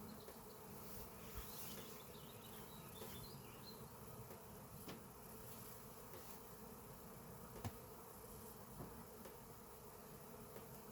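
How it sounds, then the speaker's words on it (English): Dense, steady hum of many honeybees buzzing around a busy backyard hive fed with sugar water, continuous and fairly close with no talking. "So, quite a few bees."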